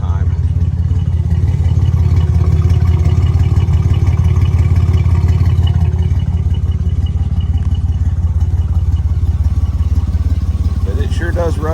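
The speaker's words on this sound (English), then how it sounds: "it's an odd fire engine, and so they sound like they're missing all the time" A 1964 Buick Skylark's Dauntless odd-fire V6 idles close and loud in a steady, uneven rumble that sounds like it keeps missing, holding constant throughout with light clatter and no talking.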